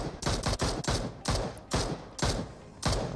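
Bursts of automatic gunfire in PUBG Mobile, five or six rapid volleys in a row separated by short pauses, loud and close, with no talking.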